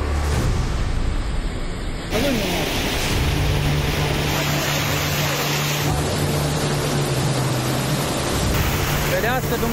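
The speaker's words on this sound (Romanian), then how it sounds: "Un șuvoi uriaș de apă coboară în viteză pe străzi" A flood torrent rushes down the streets of Reșița, Romania, sweeping away cars and houses, with a constant loud roar of churning water and voices mixed in.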